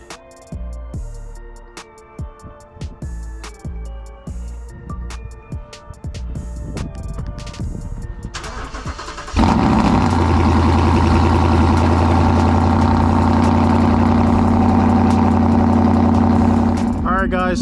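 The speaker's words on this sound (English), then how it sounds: "I'm gonna give you guys a little cold start." A car's freshly fitted aftermarket exhaust barks into a cold start: after several seconds of background clatter, the engine catches with a loud burst and settles into a steady, strong, close-up idle for the rest of the clip.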